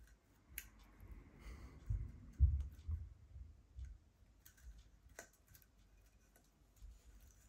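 Scissors or shears snip flower stems for an autumn candle decoration, with a couple of crisp, isolated cutting clicks over quiet handling rustle, close but soft.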